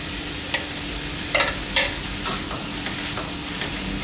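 Fermented pork sausage (naem) being stir-fried with egg, chili and spring onion in a pan, with a steady sizzle and several sharp spatula scrapes and clanks spaced through it, close and fairly loud, no talking.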